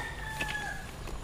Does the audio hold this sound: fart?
no